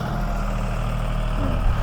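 A John Deere 5045D three-cylinder tractor of about 45 horsepower idles close by, a steady low rumbling drone with a faint shift in pitch near the end.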